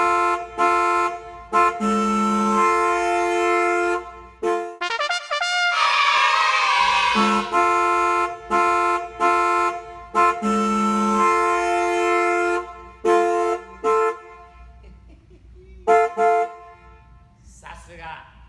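A 1970s Chrysler Mopar car horn blares in repeated loud, deep, brassy honks of varying length, close by, with a brief stretch of voice-like sound midway.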